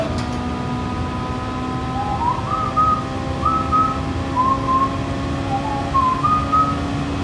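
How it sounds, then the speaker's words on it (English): Someone whistles a tune in short melodic phrases over a steady car engine drone while driving in a straight line, the whistling fairly clear and repeated through the clip. "if I'm whistling that song"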